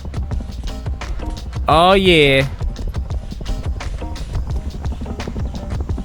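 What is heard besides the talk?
horse hooves in the video game Rust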